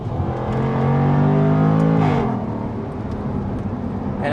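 A 2022 Jaguar F-Type P450 AWD is driven hard through a handling course, its engine revving up to a loud sustained howl, then easing off with a drop in pitch and a lingering rumble, close by.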